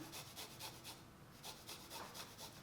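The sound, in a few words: grating a garlic clove into a pan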